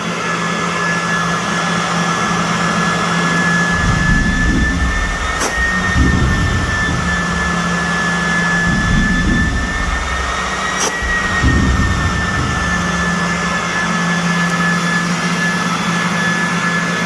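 Strong vacuum drawing air through an empty steel fuel oil tank, a steady loud roaring whoosh with rumbling surges and a pair of sharp thumps partway through, continuous and close.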